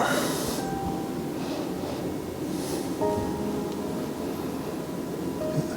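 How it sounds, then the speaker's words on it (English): A low, steady mechanical hum drones quietly and evenly throughout, like an air conditioner running in the background. "Kind of hear that AC kick on."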